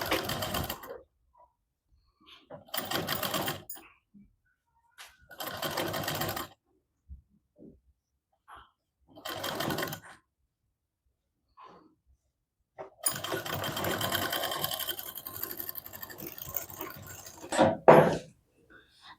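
A sewing machine stitches a double katori blouse in short bursts of steady whirring, separated by pauses of silence and ending in a longer run.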